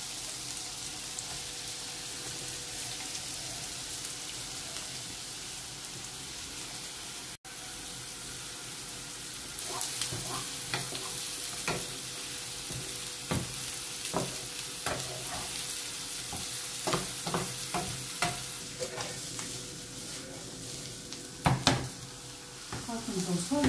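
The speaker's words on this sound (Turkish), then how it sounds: "Önce soğanlarımızı koyacağız. Olduktan sonra havuçlarımızı atıyoruz." Onions and carrots sauté in a pan for a cabbage roll filling, a steady sizzle broken by repeated scraping stirs and clinks of a utensil, with a brief faucet-like rush near the end.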